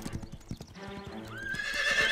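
A cartoon horse clip-clops along at a walking pace, hooves knocking in a steady rhythm before it lets out a bright, rising whinny that carries to the end.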